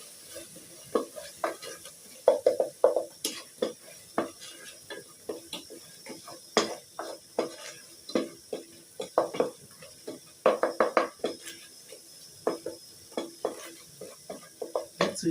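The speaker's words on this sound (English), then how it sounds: "Let me stir." Kales (sukuma wiki) sizzling in a frying pan while being stirred, with a steady fry hiss broken by repeated sharp scraping strokes of a spoon against the pan, close up with no talking.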